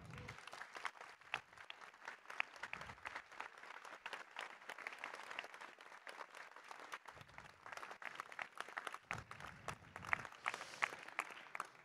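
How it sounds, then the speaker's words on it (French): Sustained applause from a party congress crowd honoring former members, dense steady clapping filling the whole stretch with no pauses. "je pense qu'on peut vraiment les applaudir"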